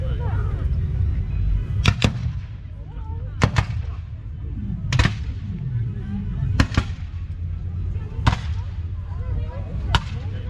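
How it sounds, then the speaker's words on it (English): Union Army reenactors firing muskets by file, pairs of shots going off in turn down the line: six sharp, loud cracks spaced about one and a half seconds apart over a low background rumble. "So the Union Army will do that first firing by file, and this is where two individuals will fire at a time, and the fire rate will move down the line."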